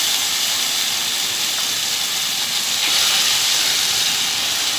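Onion masala with cumin fries in a pan with a loud, continuous hissing sizzle that stays steady throughout and has no talk over it.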